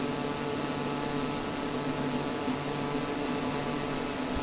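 The simulated cabin drone of a Pilatus PC-12 turboprop with its landing gear left down, flying in Microsoft Flight Simulator: a constant, broadband engine and airflow roar that holds steady throughout, with no talking.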